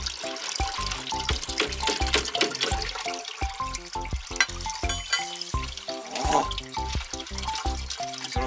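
Water gurgling and splashing through a grease trap on a household drain, close and fairly loud, with irregular bubbling pulses and trickling flow throughout.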